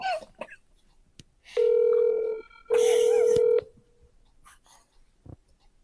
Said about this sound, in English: This must be a recording of a phone call.